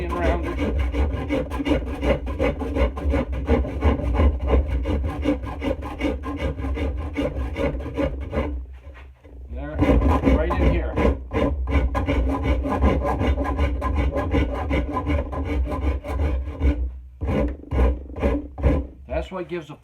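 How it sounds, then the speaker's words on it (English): A Stanley Surform rasp rounds the corners of a wooden axe handle's palm swell in steady, continuous strokes, close and loud, with a short pause midway and quicker choppy strokes near the end. "Go to the Sureform, Stanley Sureform, and all we're going to do now is take off the corners down here and make our palm swell nice and smooth"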